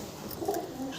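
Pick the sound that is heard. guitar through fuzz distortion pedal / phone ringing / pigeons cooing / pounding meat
pigeons cooing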